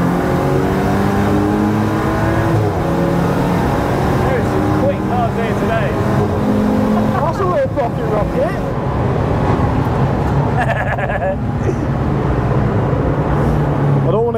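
Engine-swapped BMW M135i race car with an M55 engine, revving and roaring steadily on track, loud and continuous throughout with passing traffic noise and voices talking over it.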